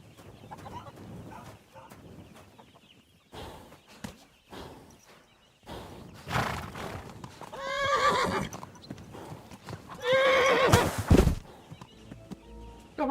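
Horse neighing and clopping hooves in the medieval game Kingdom Come: Deliverance II, with irregular hoof beats throughout, loud whinnies around the middle and end, and faint poultry clucking in the background.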